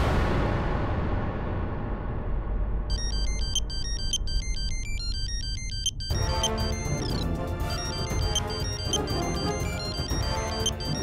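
A bright electronic ringtone melody repeats in a looping pattern over a steady engine-like rumble, growing fuller and busier partway through.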